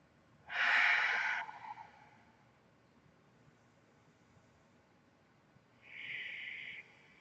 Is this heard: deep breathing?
yes